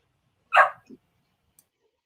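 A dog in a woodturning workshop gives one sharp, fairly close bark followed by a softer short yip, then the room falls quiet.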